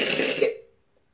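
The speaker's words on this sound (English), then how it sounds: "Sorry, I'm so sorry, I got a loud cough." One loud, close cough, sharp at the start and trailing off into silence.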